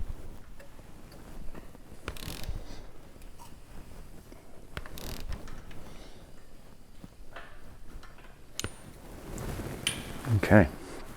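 A ratchet tightening torque converter bolts during an engine install with a Circle D torque converter, heard as intermittent clicking mechanism bursts up close, under a man's speech.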